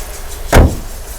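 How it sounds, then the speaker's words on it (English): A 2021 Skoda Octavia L&K bonnet is shut over the engine bay with one loud, close, heavy thud that dies away quickly, with no voices. "So let's close the engine bay."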